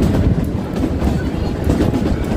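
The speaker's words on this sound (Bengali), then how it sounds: "আমাদের টয় ট্রেন এখন চলছে কানো আর্চ গ্যালারি ব্রিজের দিকে।" The Kalka-Shimla toy train runs along its mountain track, giving a loud continuous low rumble and rattle heard close from on board, with wind buffeting the microphone.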